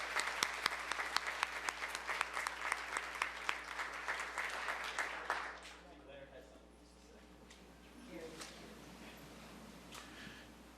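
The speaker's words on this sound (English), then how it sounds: "let's give Leonard's mother a big round of applause" An audience at a disability employment awareness celebration applauds steadily for about five seconds, a crisp crowd of clapping hands, before it fades into quiet room noise with faint distant sounds.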